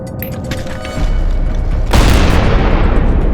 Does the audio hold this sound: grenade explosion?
yes